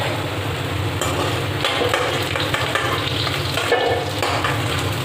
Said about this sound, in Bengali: আলুগুলোকেও আমি লাল লাল করে ভেজে নেব।